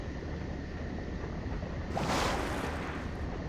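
Water sloshing and washing in Metroid: Other M, a steady wet wash that swells into a brief louder surge around the middle before settling back, with no talk over it.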